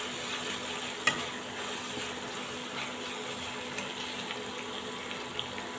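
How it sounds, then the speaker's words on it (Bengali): Onions fry in a pan for hilsa biryani with a steady, faint sizzle and one sharp clink of a utensil, close and continuous, with no talking. "তো এবার পেঁয়াজটা একটু ভেজে নেব যাতে পেঁয়াজের কাঁচা গন্ধটা চলে যায়।"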